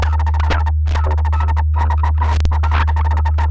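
A Buchla 200e white noise source under amplitude modulation chops into rapid, uneven bursts of hiss, riding over a steady low hum, close and fairly loud with no voices.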